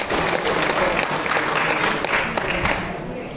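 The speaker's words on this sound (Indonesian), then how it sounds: "Kita berikan dulu tepuk tangan untuk Mubes KPS" A crowd at an organization's general assembly meeting in Batam applauds, a dense continuous burst of clapping that holds steady and then tapers off toward the end.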